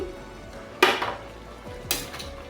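Salt-and-turmeric fried prawns added to a simmering banana flower curry and stirred, two sharp metallic clanks of a utensil against the pot about a second apart, close and alone.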